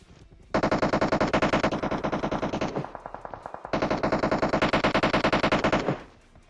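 Rapid automatic gunfire in the PUBG Mobile battle game, two long sustained bursts of loud, dense shots separated by a short pause, with no talking.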